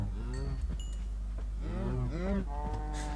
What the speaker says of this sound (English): let's kill some cows